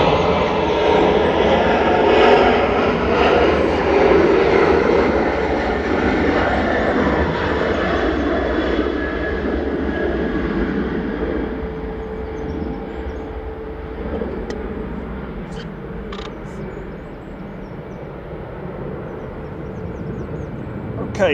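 TUI airliner departing runway 05 left at Manchester Airport, a loud jet roar building early then slowly fading into the distance as it climbs away, with faint voices and a few sharp clicks late on.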